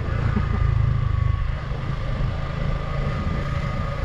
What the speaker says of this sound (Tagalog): Ganda na tunog ng makina no?